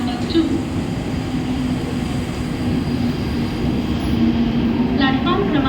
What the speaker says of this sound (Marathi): प्लॅटफॉर्म क्रमांक 2 वर आलेली लोकल 5:25 मुंबई छत्रपती शिवाजी महाराज टर्मिनसला जाणारी ही लोकल आहे.